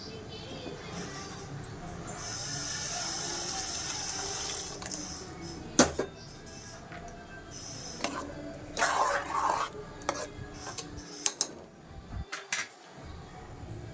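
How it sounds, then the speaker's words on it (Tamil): Water pours steadily into a pan of vegetable kurma for several seconds, then gives way to a few clanks and knocks of utensils against the pan in a home kitchen. "உங்களுக்கு தேவையான அளவுக்கு கொஞ்சம் தண்ணி மட்டும் விட்டுக்கோங்க"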